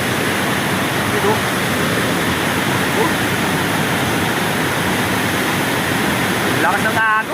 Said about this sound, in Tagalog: Lakas ng agos. Papunta yun guys, Marikina River.